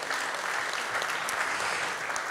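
An audience at an AI and cybersecurity conference applauds, a continuous even patter of many hands clapping with no talk over it.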